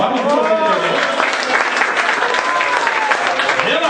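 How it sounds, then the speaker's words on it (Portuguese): A congregation applauds at a church gathering in Santa Maria, RS: dense, steady clapping fills the whole stretch, with voices carrying over it. "Uma salva de palmas."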